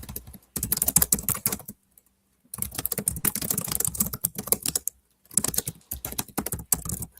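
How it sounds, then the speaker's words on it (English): Fast, feverish typing on a computer keyboard, dense bursts of rapid close key clicks broken by two short silent pauses, loud and alone with no voices. "Oh, we hear you typing feverishly."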